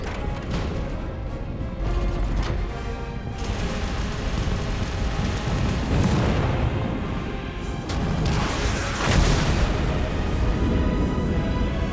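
A spaceship explodes in the Stellar Blade video game, a dense, continuous roar of booms and crashing rumble that swells at intervals, loud and sustained throughout with no talk.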